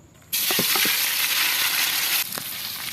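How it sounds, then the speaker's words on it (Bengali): Small fish dropped into hot oil in a wok set off a sudden loud, dense sizzle right after a quiet start, with a few clinks and spatters. The sizzle dips slightly near the end but keeps going. "তেল গরম হয়ে গেছে মাছে এখন ভাজিয়ে নিব"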